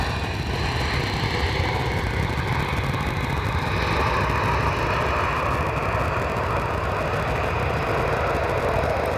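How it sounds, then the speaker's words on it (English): A KLM Boeing 737 airliner arriving from Paris lands at Amsterdam Schiphol on the Polderbaan runway. Its engines roar steadily and fairly loudly throughout, with broad rushing noise and no voices. "here we have KLM, the matter of a national pride, landing of the year from Paris to Amsterdam. It's a Boeing 737."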